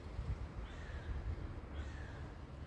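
Two faint, distant crow caws, about a second apart, sound over a steady low rumble of traffic outdoors near a rooftop car park in Cyprus.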